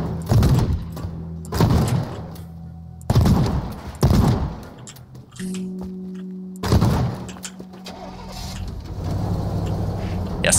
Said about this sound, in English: The shotgun works.